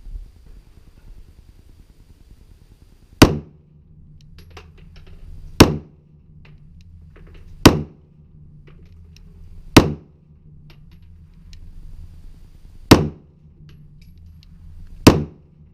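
Six sharp gunshots from a Kahr CM9 pistol crack out one at a time at a steady pace over about twelve seconds, each a loud, close report with a short tail, over a low background hum and no talking.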